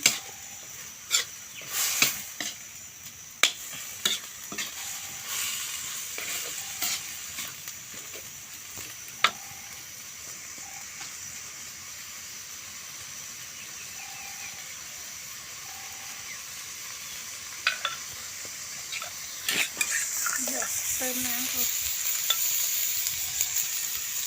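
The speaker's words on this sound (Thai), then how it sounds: "คั่วเนื้อกับพริกแกงไปเรื่อยๆก่อนนะคะทุกคน" Steady sizzling of beef stir-frying with curry paste in a hot pan, with intermittent scraping and clanking of a utensil stirring, louder clatter at the start.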